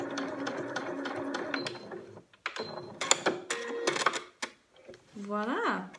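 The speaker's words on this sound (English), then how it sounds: "And then you want to do a reverse stitch towards the end as well." A sewing machine makes short, stop-start bursts of mechanical clatter while reverse stitching the ends of a seam on homemade knickers, with gaps of quiet between runs and a brief voice-like tone near the end.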